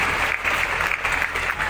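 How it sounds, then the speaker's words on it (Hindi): An audience at the Kalidas cultural festival in Uchchaith, Benipatti, Madhubani bursts into a short, dense round of clapping, loud and continuous throughout. "एक बार जोरदार तालियां हो जाए।"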